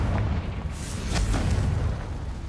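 A Confringo fire spell goes off in Hogwarts Legacy, a sustained low booming blast with crackling bursts, loud and close throughout, with no talk over it.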